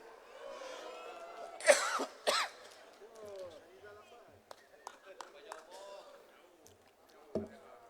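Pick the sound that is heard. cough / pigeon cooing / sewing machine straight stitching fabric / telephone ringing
cough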